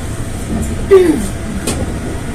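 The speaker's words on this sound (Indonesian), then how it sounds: "Oh, ini kereta buatan Indonesia dan Jepang" Indonesian- and Japanese-built commuter train at Manggarai station, a loud steady rumble and hum from aboard the carriage with a faint brief squeal, voices murmuring in the background.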